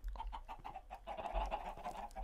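Minecraft chickens clucking in a quick run of short repeated calls, soft and somewhat distant, over a low background hum with no talking.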